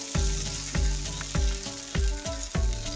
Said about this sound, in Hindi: अभी डालेंगे हम इस पर बैटर। और इसे चम्मच से तवे के ऊपर अच्छे से फैला लेंगे।